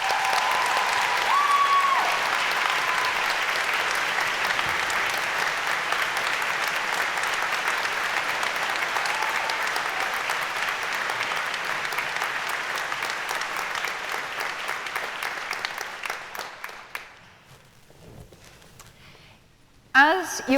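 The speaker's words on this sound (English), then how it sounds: "let's give ourselves a big round of applause" Graduates at a university graduation ceremony give themselves a long, dense round of applause that fills the hall for about sixteen seconds, then gradually thins and fades before a voice returns briefly at the end.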